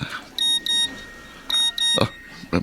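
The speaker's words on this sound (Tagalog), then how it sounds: "May nag-text sa cellphone ko." Cellphone text message notification: four short, bright electronic beeps in two pairs, clear and fairly loud, with faint room noise and brief knocks afterwards.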